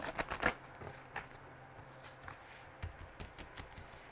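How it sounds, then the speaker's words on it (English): Cards are riffled in a quick burst of flutters, followed by a few scattered soft taps and slides. "One more shuffle. One more shuffle."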